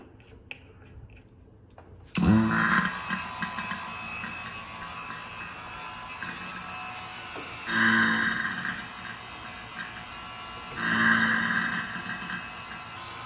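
A vacuum pump hooked to a Mini Cooper's air-conditioning system kicks on after a short quiet stretch, then runs with a steady buzzing, rattling mechanical drone that swells louder in a few surges.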